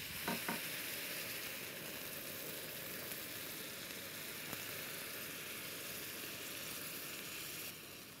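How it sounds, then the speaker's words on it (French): Caramel made with fir honey hisses and sizzles steadily as dark beer is poured in to deglaze it, with a couple of brief knocks at the start and a sharp click midway. "je vais déglacer avec un peu de bière brune"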